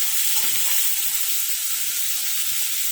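Tomatoes, dried chillies and onion fry in hot oil while being stirred, a loud, continuous close sizzle with faint scraping underneath.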